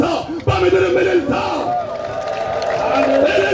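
A church congregation at an Apostolic Church of Ethiopia conference ululates together, and the shrill warbling trills rise over crowd noise and shouting. The sound is loud, close and continuous.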